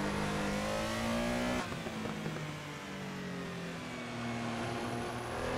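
A Porsche Carrera racing at Silverstone in Assetto Corsa: a loud, continuous engine note that shifts pitch as the car lifts and then builds revs again, with a brief hint of tyre squeal. No talking over it.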